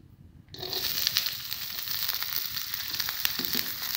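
Onions hit hot ghee in a kadai and burst into a loud, continuous hiss and crackle that starts abruptly after a quiet moment and sizzles steadily up close.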